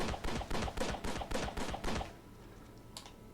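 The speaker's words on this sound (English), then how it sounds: "We even have the Gatling gun from the Lone Ranger playset." The Gatling gun from the Lone Ranger playset in Disney Infinity fires a rapid, evenly spaced burst of about eight sharp mechanical shots over two seconds, then falls quiet except for one faint click.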